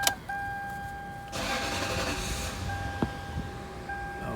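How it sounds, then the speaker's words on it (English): A Lexus LS 430 being switched on: a brief starter crank followed by a steady idle, with chime tones sounding before and after, close and clear with no talk. "So I'm going to turn now the car on."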